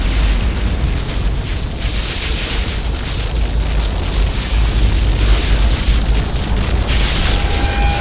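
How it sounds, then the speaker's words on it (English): A blue power core explodes in Unreal Tournament 3's Warfare mode on the Avalanche map, a loud, sustained roaring rumble that holds steady for the full stretch with no talk over it. "Blue core destroyed."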